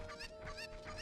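A chicken clucks in the N64 game Ocarina of Time, giving three quick, rhythmic clucks over a steady electronic hum, all fairly quiet.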